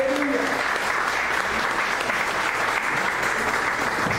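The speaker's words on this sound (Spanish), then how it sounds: "Den una ofrenda de palmas al Señor" A church congregation applauds in a loud, continuous roar of clapping that fills the whole stretch evenly, with a voice briefly audible at the start.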